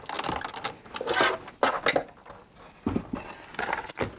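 A Sizzix die-cutting machine feeds a die sandwiched between cutting pads, giving a close series of irregular clicking, rattling and grinding bursts with short pauses, and no voices.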